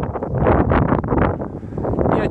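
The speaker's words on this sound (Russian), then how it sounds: "Сейчас просто ветер сильный." Strong wind buffets outdoors where pigeons are being flown, a loud gusty roar rising and falling across the whole stretch, with a faint rustle near the end.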